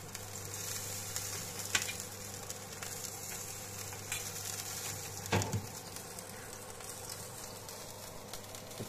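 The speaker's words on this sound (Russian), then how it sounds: "Это как жарится." Chicken frying in a pan, a steady close hiss and sizzle of hot oil with a few small pops and clicks and no voices.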